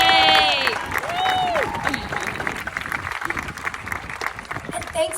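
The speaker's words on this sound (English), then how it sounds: "Let's give a round of applause to all of the security guards, nurses, counselors, maintenance, and kitchen staff." Audience at a high school senior reflection applauding school staff, dense clapping broken by high cheers and whoops at the start, then settling into steady applause that carries on to the end.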